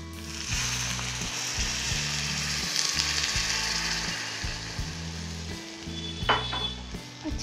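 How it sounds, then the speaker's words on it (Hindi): Milk poured into roasted moong dal halwa with cardamom sets off a loud, steady sizzle and bubbling in the pan, with a brief clatter of a utensil partway through; no one speaks. "अब इसमें दूध डालेंगे।"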